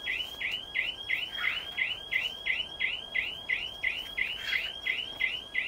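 An electronic bird-scaring beeper hung in a pear orchard repeats a rising chirp about three times a second, a bright warbling tone that carries on steadily across the open trees.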